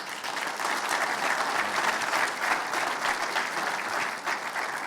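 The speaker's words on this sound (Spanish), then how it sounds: "Un aplauso, por favor." An audience at a talk applauds steadily, a dense wash of clapping that carries on evenly throughout at moderate volume.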